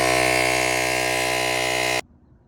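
A 12V portable air compressor built into a Rugged Geek RG1000S Plus jump starter drones loudly and steadily while inflating a car tire, then stops abruptly.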